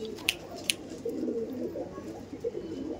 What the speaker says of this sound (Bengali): এটা নর দেখাচ্ছিলাম, দেখুন প্রচুর ওল্ড এজ